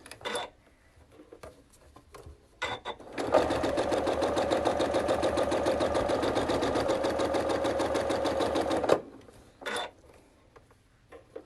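A sewing machine stitches fabric in one long, steady, rapid run of several seconds, close and clear, bracketed by a few brief clicks and short bursts before and after.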